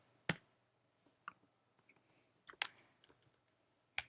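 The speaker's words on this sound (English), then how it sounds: "Why am I typing that?" Sparse clicks of typing on a computer keyboard, quiet and close, coming in scattered single taps and small clusters against near silence.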